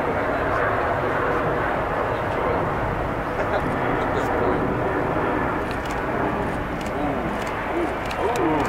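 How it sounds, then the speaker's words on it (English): A Lufthansa Airbus A340 jet airliner at Atlanta's airport gives a broad, steady engine roar throughout, loud and sustained, with people talking faintly underneath. "It's an A340."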